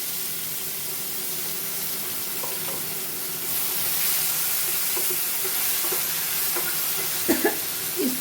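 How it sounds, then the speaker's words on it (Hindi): Onion and tomato gravy going into a hot pan for banana kofta curry, giving a steady low sizzle throughout with a few soft stirring clinks near the end. "अब इसमें प्याज और टमाटर जो ग्रेवी बनाए हैं, इसको मैं डाल रही हूँ।"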